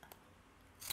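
Scissors snip paper for a scrapbook album page, two short crisp cuts close by with a pause between, in an otherwise quiet room.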